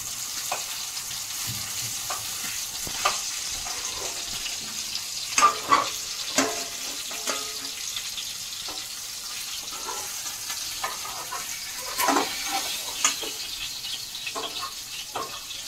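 Pieces of fish fry in hot oil in a pan: a continuous, fairly quiet sizzle with a few scattered clinks and scrapes from a utensil.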